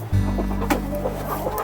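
Chickens eating feed and compost cluck softly and close by over a steady low background hum.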